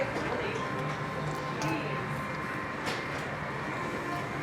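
A freight train carrying lumber loads rolls past on the way to Tehachapi, a steady broad rumble and rattle of wagons at moderate distance, with faint clanks scattered through it.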